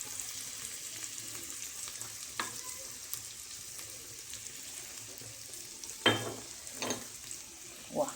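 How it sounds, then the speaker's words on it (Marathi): Garlic sizzles in hot oil for a Marathi-style tempering, a steady close hiss of frying with a few sharper clinks and stirring knocks from a pan. "आणि थोडासा लसूण आहे शिल्लक, त्याचा फोडणीला टाकायला, ते पण टाकते"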